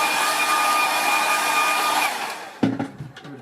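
A hair dryer blows steadily and loudly over a freshly painted watercolour, a constant close whoosh for over two seconds before it cuts off, followed by brief handling knocks.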